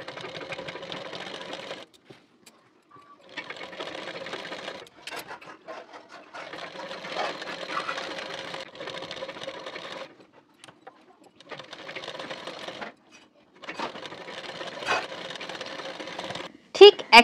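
A sewing machine stitches a blouse sleeve in, running in several close, steady whirring bursts separated by short pauses, with a few clicks between runs.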